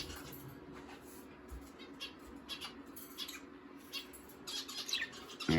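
Pet birds chirp and tweet at breakfast time, scattered short calls rising over a steady indoor hum, growing busier and louder toward the end.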